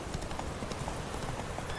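Roach the horse galloping in The Witcher 3, a quick continuous clip-clop of hooves at steady rhythm over a dense game background, moderately loud with no voices.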